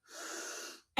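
A single deep, airy inhale during a voice relaxation exercise, drawn steadily for nearly a second at close range, followed by a brief sharp sound at the end.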